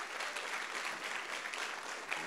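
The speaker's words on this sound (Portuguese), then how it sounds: "Dê uma salva de palmas aí para esse pessoal." A congregation at a church gathering claps together in steady, loud applause that fills the whole short stretch without any voices over it.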